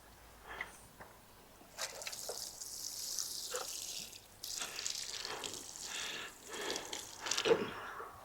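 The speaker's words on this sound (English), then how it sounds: "Then I'm just going to water it" Water poured over freshly planted squash, sweetcorn and bean pots after a dose of potato fertiliser, a close, uneven splashing and trickling that comes in bursts with brief pauses.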